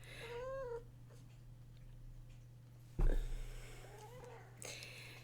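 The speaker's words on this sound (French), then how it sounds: "mon chat est venu me voir" A pet cat meows indoors, with one clear call near the start and softer mewing later, all close by over a steady low hum.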